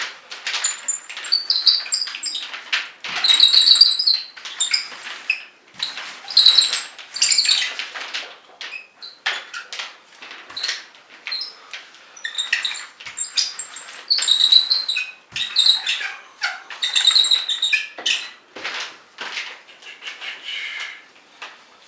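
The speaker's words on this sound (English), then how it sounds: "Oh, I used a squeaky roller today." Squeaky paint roller rolling stain onto a wood door, a rhythmic series of high, chirpy squeaks in repeated bursts with short pauses, fairly close and alone without talk.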